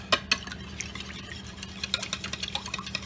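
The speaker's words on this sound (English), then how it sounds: "you're gonna do is you're just gonna whisk it all up. Bust the eggs all up real nice" Eggs being whisked with hot sauce in a bowl for a copycat Popeyes chicken sandwich batter, two sharp clinks at the start, then a quick run of light, rhythmic scraping and tapping strokes close by, with no talking.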